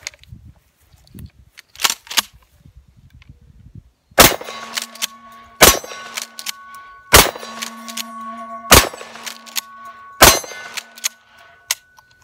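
A Mossberg 500 12-gauge shotgun with an 18.5-inch barrel fires five sharp, loud shots at a steel target, each followed by a ringing metallic clang, after a few quieter handling clicks at the start.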